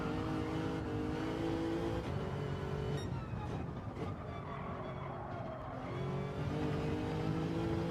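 A Lexus RC F GT3 '17 race car in Gran Turismo 7 drones at steady high revs through the whole run, dipping briefly in pitch mid-stretch as if lifting or shifting before climbing again, loud and continuous with no talk.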